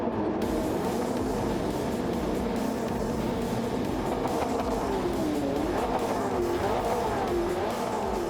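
Race car engine in Gran Turismo 7 during a Nations Cup qualifier at Lago Maggiore, a steady loud drone with rising and falling engine pitch throughout, no talking.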